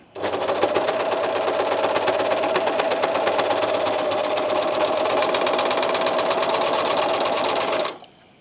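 An Elna 792D serger stitching and trimming two layers of fabric runs in a steady, fast mechanical whir with a rapid needle chatter, close and continuous for about eight seconds before stopping abruptly.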